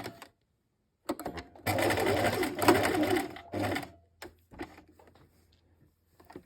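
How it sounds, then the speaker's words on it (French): A sewing machine stitching a blouse facing with back-and-forth reinforcing stitches, a close mechanical whirring run of about two seconds after a brief start, followed by a few short bursts and clicks in a quiet room. "moi je vous conseille de faire plusieurs points avant-arrière pour renforcer votre couture à ce niveau-là."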